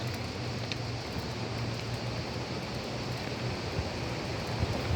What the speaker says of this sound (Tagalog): Eh, kita nyo lagaslasan. Pababa ang tubig sa pababa.